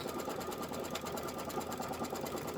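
An embroidery sewing machine stitches a tack-down on a quilted grass strip, a fast, even, rapid-fire mechanical chatter close by and continuous throughout.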